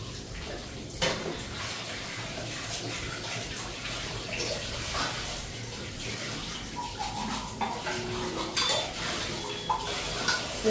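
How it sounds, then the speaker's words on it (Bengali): Dishes, pots and pans being washed in a sink with running tap water, a steady splashing wash with scattered clinks of metal utensils and cookware throughout. "এদিকে কয়েকটা বাসন আগে ধুয়ে আনি।"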